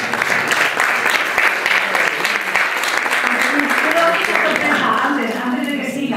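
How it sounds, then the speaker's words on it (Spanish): Sustained, dense applause from an audience at a European economics and competitiveness awards ceremony, steady and fairly loud throughout, with voices mixed in underneath. "eso merece otro aplauso"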